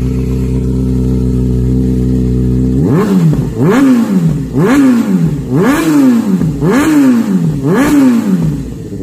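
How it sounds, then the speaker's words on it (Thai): A 2020 Kawasaki ZX-6R ABS with a slip-on exhaust idles loudly, then revs repeatedly in quick rhythmic bursts, the exhaust rising and falling with each throttle blip, close by. "จะพาไปฟังเสียงท่อ เบิร์นเอาว่าจะดังเพราะแบบไหนไปฟังกัน"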